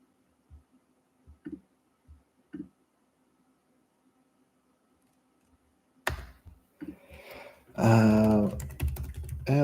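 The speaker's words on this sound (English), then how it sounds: "Start typing. Just start typing already." A few soft, isolated keystrokes on a computer keyboard tap in the quiet, followed by louder, denser clatter and a burst of other noise toward the end.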